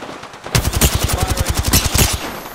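Rapid automatic gunfire from Apex Legends, a loud close burst of evenly spaced shots lasting about one and a half seconds before cutting off.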